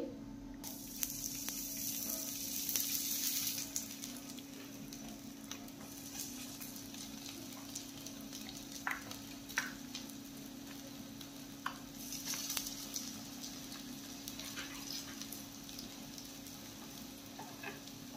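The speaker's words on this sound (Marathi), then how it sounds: "आपल्याला सर्व कटलेट फ्राय करून घ्यायचे आहेत" Poha cutlets frying in oil in a pan, a soft continuous sizzle with occasional spatula scrapes and faint crackles, quiet and close with no talking.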